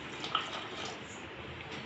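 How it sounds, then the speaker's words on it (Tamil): Water is poured into a pot of tamarind kulambu with dried sundakkai, a soft, continuous splashing hiss that stays quiet and steady, with no talking. "இதில் உங்களுக்கு தேவையான அளவு தண்ணி ஊற்றிக்கோங்க."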